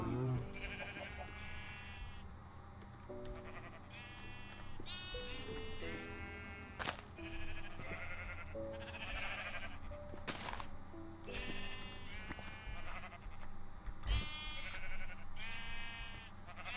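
Sheep in a modded video game bleat again and again over a steady game soundscape, the wavering calls overlapping at moderate loudness throughout, with no clear talking.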